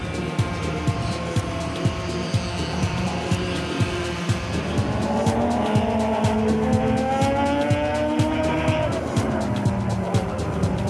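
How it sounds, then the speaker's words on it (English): Hot rod race cars roar around an oval track in a continuous loud drone, engines rising and falling as they pass, with tire squeal and faint talk in the mix. "I'm racing in hot rods."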